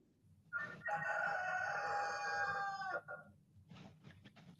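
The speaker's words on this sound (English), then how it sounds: "Yep, they can hear the roosters." Roosters nearby: one sustained cock-a-doodle-doo fills most of the moment, loud and close, then fades into soft rustles and faint clucking.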